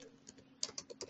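Quiet keystrokes on a computer keyboard as someone types commands, a quick irregular patter of soft clicks close to the microphone with no talk.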